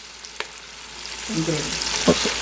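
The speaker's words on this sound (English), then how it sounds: "So we don't need to cook the onion for like not more than 3 minutes." Chopped onion fries in a pan for coconut chicken pulao, a steady close sizzle with occasional scrapes and clinks of a spatula stirring through it.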